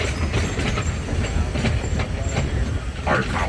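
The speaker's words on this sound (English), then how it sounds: "Our power today comes from a diesel-electric locomotive, number 1934. This locomotive was built in 1951 by General Electric." A 1951 General Electric diesel-electric locomotive, number 1934, pulls rail cars along a mountain loop line, giving a loud steady rumble with wheel clatter and a brief high squeal near the end, no voices.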